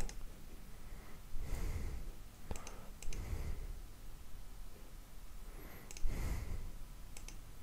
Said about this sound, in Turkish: Klavyemizden Kontrol M diyoruz